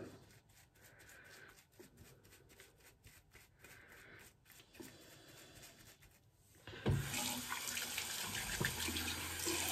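A bathroom tap runs during a wet shave with a brush, starting as a soft trickle under rustling handling noise, then gushing louder and steadier for the final few seconds.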